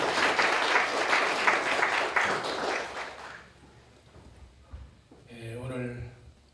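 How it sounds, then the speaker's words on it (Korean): Congregation applause welcoming a pastor to the stage at a church thanksgiving service, a dense burst of clapping for about three seconds that fades out, followed by a voice speaking. "우리 김우경 목사님 박수로 모시겠습니다"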